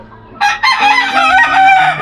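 White backyard chickens with one loud, close rooster crow that rises sharply and holds for well over a second, filling the short stretch on its own.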